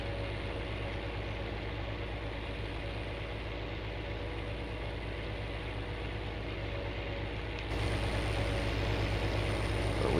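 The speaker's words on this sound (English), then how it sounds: "A lot of work left for this tractor before it can get put away for the year" A farm tractor used for spraying wheat ground idles steadily, a constant low, heavy engine drone that stays even and close, growing slightly louder near the end.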